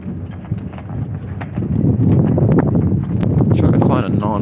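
Wind buffets the microphone outdoors along a city sidewalk, a low rumbling roar that swells louder after the first second and a half, with scattered clicks and knocks over it.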